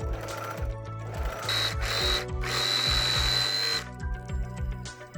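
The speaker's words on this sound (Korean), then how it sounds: "가감질 선을 모두 오버록걸 해줍니다" An overlock serger trims and stitches the edges of a knit T-shirt fabric for a dog shirt, running in rapid whirring bursts with a rhythmic mechanical chatter and brief pauses between runs.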